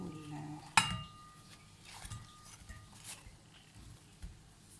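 Cooked eggplant being emptied into a serving dish, one sharp clink of utensil on plate followed by soft scraping and light taps, faint and close.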